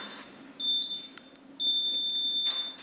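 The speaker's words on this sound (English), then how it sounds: "You'll hear a number of beeps" Two steady electronic beeps from a council meeting's speaking timer, each a clear sustained tone, the first brief and the second longer, sounding alone in a quiet room.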